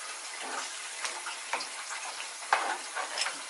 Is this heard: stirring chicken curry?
yes